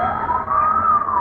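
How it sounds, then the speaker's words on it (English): An emergency vehicle siren wails loud and close, one rising tone held briefly in a short burst. "I can hear all kinds of sirens popping off over here."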